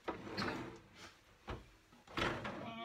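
A drawer in a handbag storage cabinet slides open and shut several times, giving close wooden knocks and scraping runs in an uneven rhythm, with no talk.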